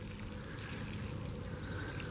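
Water mixed with fish emulsion is poured over a newly planted tomato plant, a soft steady trickle and splash that is fairly faint and continuous with no talk over it.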